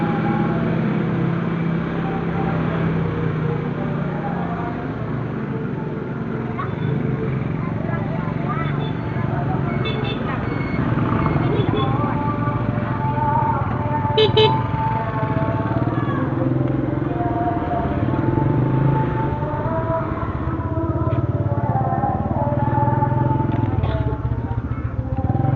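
A motorcycle with a loud aftermarket exhaust rides along a city street in Bukittinggi, West Sumatra, its engine rumbling steadily and up close for the whole stretch over broad traffic noise.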